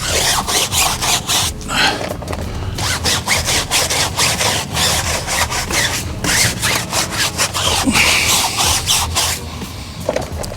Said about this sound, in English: We're just gonna start off giving the tires a little scrub here.